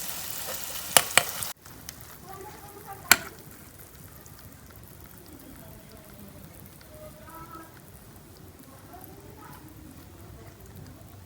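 Red and green chillies fry in hot oil in a pan for pickle, a steady close sizzle after a few sharp clicks at the start, with faint talk at times.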